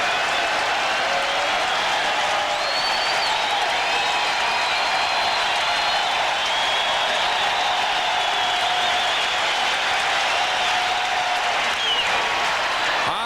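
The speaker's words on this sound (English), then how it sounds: "The fans are on their feet." A sellout crowd of about 46,000 baseball fans at an Orioles game cheers and applauds loudly and steadily, a dense roar with scattered whistles and shouts that holds throughout.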